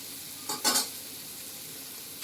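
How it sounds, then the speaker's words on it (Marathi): Food sizzles in hot oil while being stirred for a Maharashtrian val (field bean) khichdi, with a couple of short scraping stirs over a steady frying hiss. "ते पण आपल्याला असं छान परतून घ्यायचं आहे तेलामध्ये"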